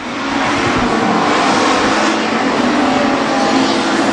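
WISSOTA street stock race cars roar around Granite City Speedway in a loud, sustained engine drone that swells slightly as the pack rounds a turn, with no audible talk over it.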